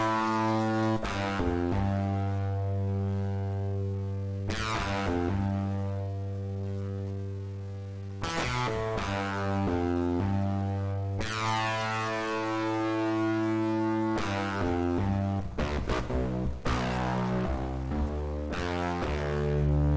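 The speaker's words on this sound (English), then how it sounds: "There's a little bit of fuzziness in the background" Jupiter synth notes pushed through a fuzz distortion patch built in Bitwig's FX Grid, buzzing harmonic-rich tones held for seconds and changing in stepped phrases, loud and continuous without any voices.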